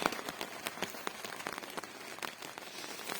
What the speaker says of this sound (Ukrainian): Чуєте, який пустився рясний дощ.